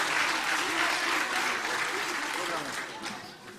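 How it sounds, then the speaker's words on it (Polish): A jazz concert audience of patriotic songs gives warm, dense applause that holds steady for several seconds, then begins to taper at the end. "Gorące brawa!"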